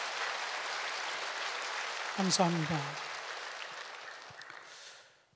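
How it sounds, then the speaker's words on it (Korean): A church congregation applauds the contributors to a book during a worship service, a broad wash of clapping that fills the clip while a voice briefly speaks in the middle before the sound fades out. "그분들 위해서 한번 뜨거운 박수 보내주시면 고맙겠습니다"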